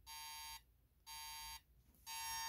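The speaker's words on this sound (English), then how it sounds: "That's what it sounds like when the alarm is on." A vintage 1975 Heathkit GC-1094 digital alarm clock sounds its alarm as a harsh, buzzy electronic tone in three loud, steady bursts of about half a second each, separated by short quiet gaps, with no talking.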